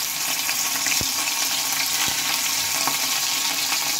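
Ground spice paste sizzles steadily in hot oil left over from frying peanuts, a continuous close hiss with a couple of faint clicks.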